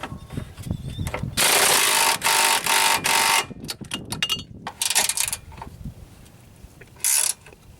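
Ratchet tightening the motor mount bolts on a 2005 Dodge Neon with a manual transmission, loud close bursts of rapid clicking separated by short pauses, then a final brief burst, with clanking tool noise between.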